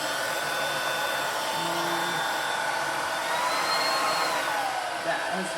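A steady, fairly quiet motor whir of a cordless vacuum running continuously, with a faint high whine throughout.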